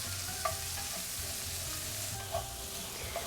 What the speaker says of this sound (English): I'm gonna move them around until they get slightly translucent.